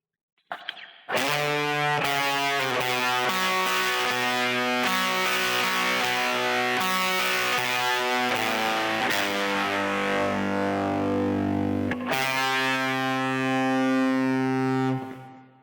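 Heavily distorted, fuzzy electric guitar through a Line 6 Helix with a fuzz effect, playing sustained chords and notes, loud and saturated, with a brief break before ringing out again.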